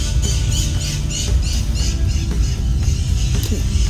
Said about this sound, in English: Attacked by birds.